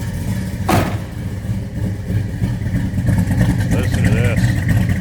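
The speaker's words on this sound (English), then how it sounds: "440 rumbling underneath the hood." Deep, steady rumble of a 1973 Dodge Charger's cammed 440 V8 idling up close, with a brief sharp knock early on and a voice talking over the engine.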